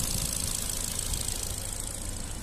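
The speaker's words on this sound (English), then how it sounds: "Engine sound very nice and smooth" Ford Fiesta 1.4 Zetec petrol automatic hatchback with 66,000 miles, its engine idling smoothly in a steady low hum with light mechanical ticking, heard close with no talking.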